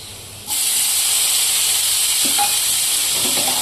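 Vegetables with tomato, ginger-garlic paste cooking on a low gas flame, a steady loud hiss and sizzle that starts abruptly and holds constant, with a few faint clinks.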